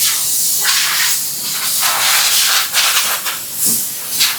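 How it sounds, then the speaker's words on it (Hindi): Silicone spray followed by bursts of compressed air clean a shoe-sole mould die in a footwear factory, giving steady close hissing with several stronger surges, and no talk. "आफ्टर एवरी शॉट हम डाई को क्लीन करते हैं, पहले सिलिकॉन से फिर एयर से"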